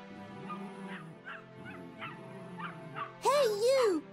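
In the game ELIF, a chihuahua lets out a string of short yips and whimpers, ending in two louder, higher barks, with a voice speaking over the noise.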